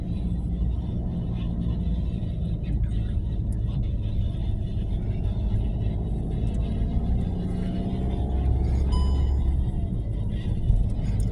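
A car travels along Morong Highway in Rizal, its steady low road rumble and engine drone continuous and close throughout, with no talk.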